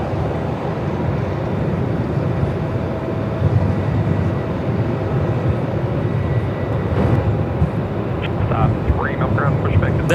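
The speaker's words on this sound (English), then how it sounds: "The green A220 coming in from Canberra." A green Airbus A220 airliner arriving from Canberra passes overhead at Melbourne Airport, a steady broadband engine roar with no breaks throughout, while people talk beneath it.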